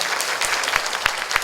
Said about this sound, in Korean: 다시 한번 박수 한번 부탁드리겠습니다